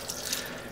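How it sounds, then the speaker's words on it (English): A cup of water is poured into a chicken adobo marinade, a short, steady splashing rush heard close and alone. "Then I put 1 cup of water into the marinade"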